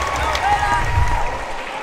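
Crowd applause and cheering fill the arena at a padel finals match in Jakarta, a steady, dense wash of clapping and voices that holds at the same level throughout.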